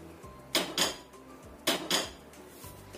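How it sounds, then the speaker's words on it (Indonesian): Plates set down on a kitchen counter while cooking a potato and cornstarch snack, giving clattering ceramic knocks in two close pairs with a soft thump between, near and crisp, with no talk. "Aku taruh piring."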